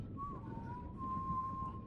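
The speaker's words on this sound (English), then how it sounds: "Who's whistling?" A single sustained whistled tone from a character in the Game of Thrones Telltale video game, held steady for well over a second over a low game ambience.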